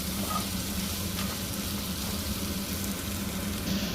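Mutton curry with chili powder frying in a pan, a dense continuous sizzle and hiss with faint stirring, close and steady with no pauses.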